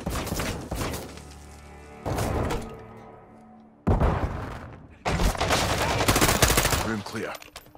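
Gunfire from the video game Modern Warfare II during a tactical room-clearing mission, with several loud, sharp bursts of shots separated by brief pauses, the last burst longest, close and dominant.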